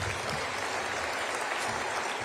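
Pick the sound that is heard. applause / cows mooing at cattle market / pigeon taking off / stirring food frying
applause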